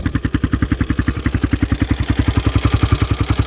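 A Honda quad ATV engine running after repair, loud and close with a fast, even single-cylinder thumping pulse and a metallic clatter layered over it, holding steady throughout.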